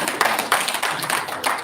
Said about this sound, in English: Give him a big hand, guys.